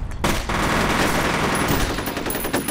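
Rapid, sustained automatic gunfire roars from the F.E.A.R. video game, a dense close burst of shots lasting a couple of seconds with a sharp hit near the end.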